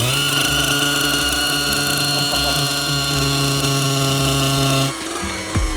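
A Rolls-Royce engine gives a steady drone with strong harmonic hum for several seconds, then cuts to a quieter idle with a brief clunk near the end.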